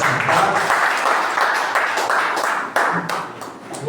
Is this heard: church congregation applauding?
yes